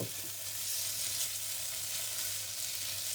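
Prawn fried rice with sesame oil, fish sauce and light soy sauce sizzles steadily in a hot pan while being stirred, a constant close hiss with no talking.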